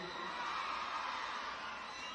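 A concert crowd at the São João festival in Campina Grande shouts and cheers in a steady, dense roar, heard from amid the audience.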